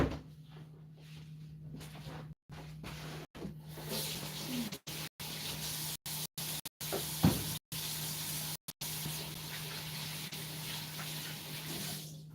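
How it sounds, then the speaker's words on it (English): Tap water running into a kitchen sink while hands are rinsed, a steady, soft hiss broken by brief cuts, with faint clatter of splashing mixed in. "I'm gonna go rinse my hands off."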